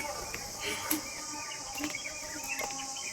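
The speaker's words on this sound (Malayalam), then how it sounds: "കിളിയുടെ ഒക്കെ സൗണ്ട് ഉണ്ട് കേട്ടോ." Birds chirp in short, scattered calls at dawn on a terrace, heard over a steady, dense layer of insect or cricket buzzing.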